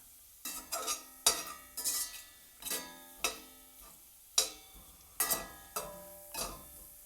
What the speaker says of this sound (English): Make sure to be stirring relatively consistently, making sure that nothing burns, and flipping the lardons over just to make sure every side gets nice and brown